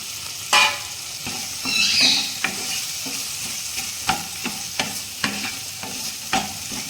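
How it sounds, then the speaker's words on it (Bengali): Four slit green chillies drop into a sizzling Bengali tempering with cumin and tomato, crackling loudly at first, then frying on with a steady hiss punctuated by frequent spatula taps and scrapes. "এখন আমি 4টে কাঁচা লঙ্কা চিড়ে ফোড়নে দিয়ে দিচ্ছি।"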